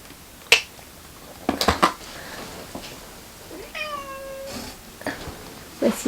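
A small cat meows once in a clear, rising-and-falling call, set among sharp taps and clicks of small objects being handled nearby in a quiet room.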